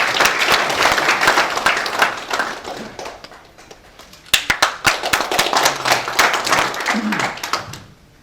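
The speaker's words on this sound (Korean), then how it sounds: "다음은 큰 박수 부탁드리겠습니다." Audience applause at an evening gathering, loud dense clapping that thins and softens midway, then swells again with sharp individual claps before tapering off.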